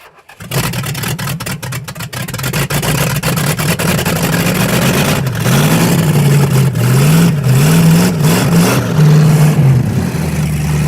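A big-block V8 crammed into a junkyard Suzuki Samurai cranks and catches with brake clean poured above the carburetor butterflies. It then barks through several sharp, loud revs, rising and falling close to the microphone.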